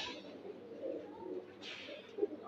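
Sylheti pigeons cooing softly in a breeding loft, low murmuring coos running steadily through the clip with a brief brighter rustle partway through, close and moderately quiet, with no talking.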